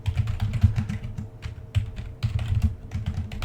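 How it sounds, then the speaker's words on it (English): Steady typing on a computer keyboard while building an Angular app: close, quick, uneven key clacks in bursts with brief pauses, no talking. "Let's just type"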